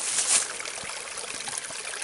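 Shallow stream in the Virginia woods, with water trickling and babbling nearby in a steady, fairly loud flow. No voices are heard.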